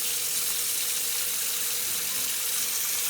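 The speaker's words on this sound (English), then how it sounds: "And I'm just going to rinse this out." Cold water running steadily from a tap as a Hoover Junior vacuum cleaner bag is rinsed, a faint continuous hiss and wash with no break.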